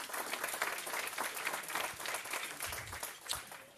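A comedy show audience claps for the comedian, a quiet but continuous patter of many hands lasting a few seconds, heard from a distance with no voices over it.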